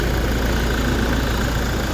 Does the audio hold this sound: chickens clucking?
no